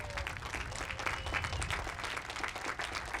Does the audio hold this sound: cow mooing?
no